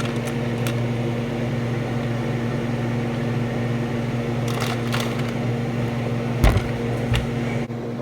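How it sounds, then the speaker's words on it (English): A kitchen fan runs steadily throughout during cake making, a loud constant hum with a few brief clicks and knocks near the end. "I feel like I have to yell over the fan."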